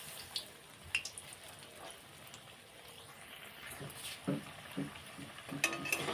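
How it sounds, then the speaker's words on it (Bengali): Batter-dipped sandwich pieces fry together in a pan, a soft, steady sizzle close by with occasional clinks and scrapes of a utensil against the pan, fairly quiet overall. "তিনটে সব একসাথে দিয়ে ভেজে নেব।"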